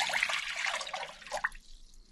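About 1.5 cups of water pour into a slow cooker for oatmeal, a steady close splashing stream for over a second that then tapers off into quiet.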